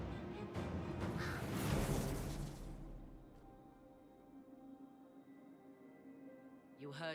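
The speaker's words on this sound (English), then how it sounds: "Keeps an eye on the frickin' bird." A bird caws in the Dragon Age Inquisition video game, a harsh crow-like call over a swelling ambient game soundscape that fades to a low hum.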